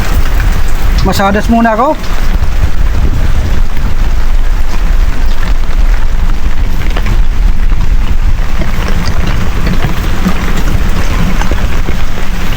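Steady, heavy rain pours down throughout, a dense, loud hiss of drops that continues without pause, with someone speaking briefly near the start.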